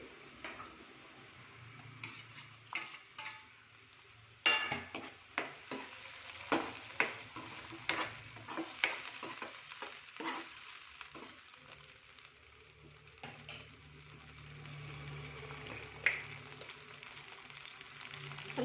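Onion and tomato fry in a pan with a soft, continuous sizzle while a spoon stirs and scrapes at uneven intervals, close and fairly quiet.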